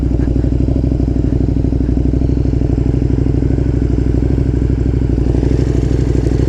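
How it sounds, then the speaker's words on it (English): A KTM 1290 Super Duke R motorcycle engine runs close and loud with a steady, even throb of rapid firing pulses that holds unchanged for the whole stretch, with no talking. "Beautiful fucking bike."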